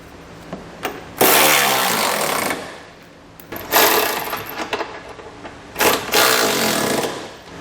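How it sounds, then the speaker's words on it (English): Power ratchet or impact driver with a 3/4 inch socket snugging trailer hitch bolts on a 2020 Lexus NX 300, three loud bursts of whirring, rattling spin separated by short pauses. "I'm going to use a 3/4 inch socket to snug everything down"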